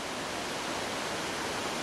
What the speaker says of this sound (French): C'est la cascade, elle est cachée par la végétation, mais on la voit quand même pas mal.